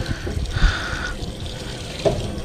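Scrubbing with a shoe brush and water while cleaning up in a camper van setting: a steady wet brushing wash with a brief soft swish and a small knock, moderately close, with no talk.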